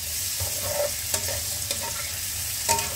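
Large chilies are stir-fried in a pan for a Singapore-style asparagus dish, giving a bright, steady sizzle with a few sharp scraping taps of the spatula against the metal.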